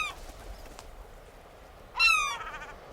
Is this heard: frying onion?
no